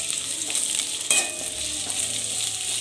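Black and regular dates are heated and stirred in a pan, giving a soft sizzle with scraping spoon strokes and a sharp clink partway through, close and alone without speech.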